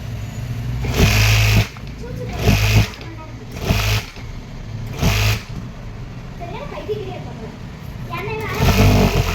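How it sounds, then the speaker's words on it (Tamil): A sewing machine stitches along the top layer of fabric, running in several loud, even bursts of a few seconds each with short pauses between them and a voice talking during the gaps. "இப்போ இதுக்கு மேலே தையல் போட போகிறேன்."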